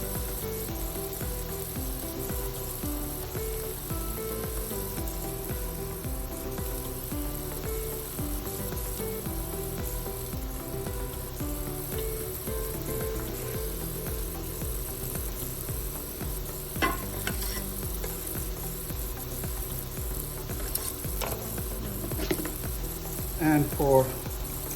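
Garlic sizzles in a pan with green beans and bacon, a steady hiss that runs throughout at moderate level beneath a person talking, with a few brief clatters near the end.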